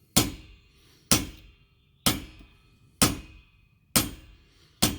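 A hammer gently taps a bearing buddy off a trailer wheel hub, six sharp metallic strikes at a steady pace of about one per second, each ringing briefly before fading, close and clear with a single spoken word.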